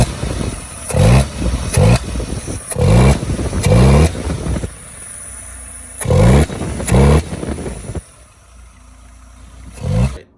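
Toyota AE86 engine fitted with a Weber carburetor runs with repeated loud revs rising and falling, separated by rougher idle stretches, close up.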